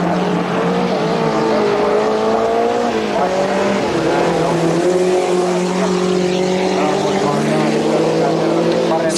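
Rallycross cars at the 1986 European championship race side by side toward the first chicane, engines roaring loudly and continuously with rising and falling pitch, while a commentator talks over the noise.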